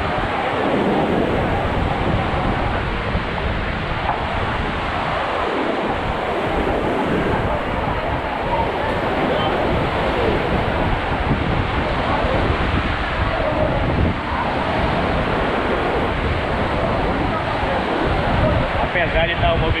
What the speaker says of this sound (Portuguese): praia de Canasvieira aqui em Florianópolis